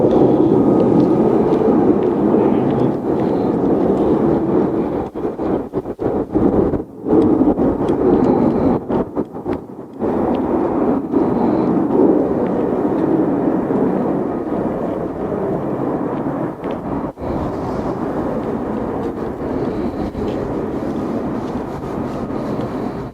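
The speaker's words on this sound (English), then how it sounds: "I believe I can hear F-35s now." Loud, continuous roar of F-35 fighter jets passing overhead at an air show, a broad rumbling drone sustained throughout with brief dips, heavy enough to shake a nearby van.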